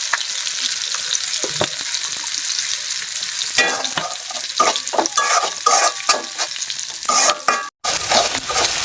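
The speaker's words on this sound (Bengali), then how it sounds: "আমার মশলাটা কষানো হয়ে গেছে" Spice paste fries in a pan with a dense, close sizzle. Scraping and stirring clatter grows busier toward the end, broken by one brief sharp dropout.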